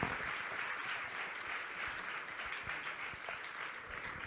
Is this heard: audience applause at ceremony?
yes